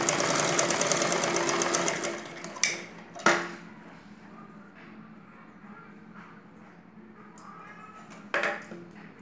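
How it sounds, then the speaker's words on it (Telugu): Sewing machine stitching folded thread piping for a blouse neckline, a fast steady whirr for the first two seconds, then a few sharp clicks and knocks amid quiet handling noise. "ఈ విధంగా మడత పెట్టి మనము చివరి దాకా కుట్టుకుందాము."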